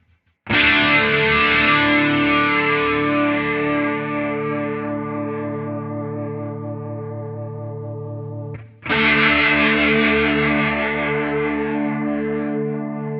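A Quad Cortex modulation effect on a sustained guitar chord slowly shifts its wobble speed, bright and swirling with echo, then the chord is struck again and rings on under the same gradually changing modulation.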